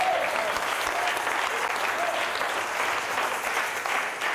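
Congregation applauding during a church service, dense sustained clapping from many hands filling the room, steady and fairly loud throughout.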